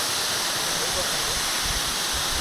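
Water from a mountain waterfall in a Kalimpong valley pours down in a constant loud roar. A voice may be faintly present underneath.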